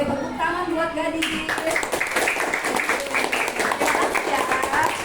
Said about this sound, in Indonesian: Oke, tepuk tangan buat gadis.